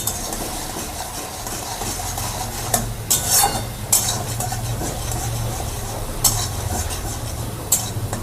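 Peas with salt being stirred in a pan, a steady scraping sizzle with a few sharp clinks of a spoon against the metal, close up and with no talk.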